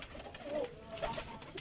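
Flying pigeons at a breeder's loft give soft, brief cooing calls, faint and close, with light fluttering and background noise around them.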